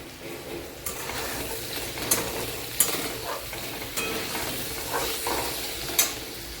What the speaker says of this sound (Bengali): আর এই যে আলুটা ভাজছি এখানে